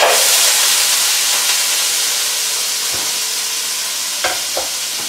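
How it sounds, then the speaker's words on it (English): Sweet potato and kale frying in a pan, a loud, steady broadband sizzle and hiss with a few brief clinks of stirring near the end, no voices. "I'm gonna start frying that up."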